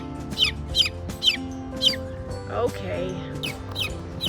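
Silkie Bantam chicks chirping nearby in a garage, a run of regular sharp peeps with a short squawk partway through, and a voice briefly speaking.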